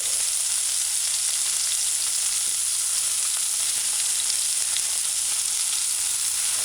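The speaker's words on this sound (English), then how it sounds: "Just let it stay and let the onion saute." Onion sauteing in a pan after chicken has fried, a steady broadband sizzle that holds even and close throughout with no talking.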